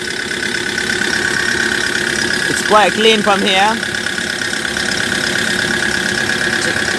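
A 2009 Kia Bongo III 4WD diesel truck engine idles smoothly, rumbling continuously at close range while someone speaks briefly over it.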